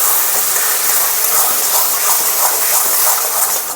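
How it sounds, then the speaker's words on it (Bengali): Cooked moong dal hits a hot pan of taro leaves for kochu shaak, setting off a loud, continuous hiss of steam that holds steady before cutting off at the end. "এখন মুগ ডালটাকে আমি দিয়ে দিচ্ছি।"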